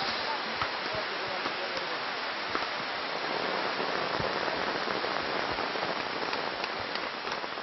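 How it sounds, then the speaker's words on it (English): Rain falls steadily in a jungle, a continuous soft patter dotted with sharper drops striking nearby surfaces. "We're carrying on in the rain because we have to get the supports up by tomorrow."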